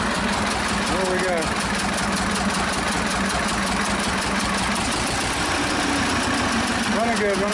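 A Belarus tractor engine runs on two cylinders, a steady, rough idling rumble that continues unbroken, close by, while a person talks over it.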